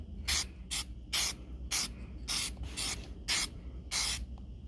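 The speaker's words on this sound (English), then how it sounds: "Got the dry moly lube all shuck up and ready to go." Aerosol can of dry moly lube sprayed onto a big knife in eight short, even hissing bursts, each close and separated by brief pauses.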